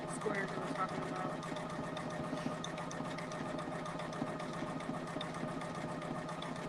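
A Poolin EOC06 single-needle embroidery machine runs at a steady 500 stitches per minute, a fast even mechanical chatter and hum that continues throughout, with a person talking quietly over it.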